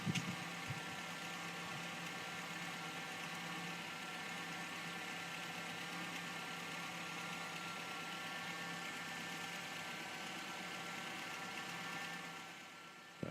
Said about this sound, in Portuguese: Praticamente a gente ouve só o choro característico da bomba de direção hidráulica dele, né? E o motor é muito silencioso